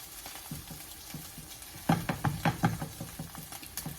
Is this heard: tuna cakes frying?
yes